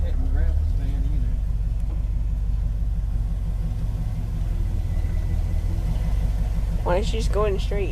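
A 1968 Ford F-250 pickup engine rumbles steadily while driving after a cold start, a low continuous drone with a voice speaking briefly near the end.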